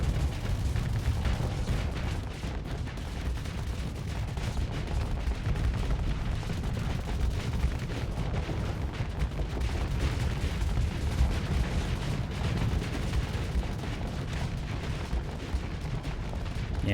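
Sustained heavy gunfire from big ship guns in the space combat game Starsector, a dense continuous rumble of booming shots and mechanical clatter at steady loudness throughout, with no talking.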